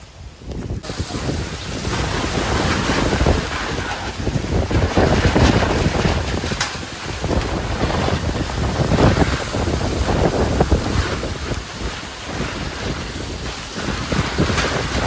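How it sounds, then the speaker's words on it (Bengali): A storm hits a village house with rain, and strong gusting wind roars and buffets the microphone in loud, uneven surges throughout. "তো বৃষ্টি কিন্তু চলে এসেছে দিদি, চলো চলো চলো বৃষ্টি"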